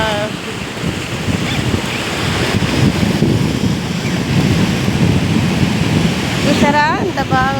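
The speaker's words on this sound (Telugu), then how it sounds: "చూసారా ఎంత బాగా వస్తున్నాయో నీళ్ళు వాటరు" Sea waves surge and wash up toward shore in a continuous loud roar with wind buffeting the microphone, and a voice speaks briefly near the end.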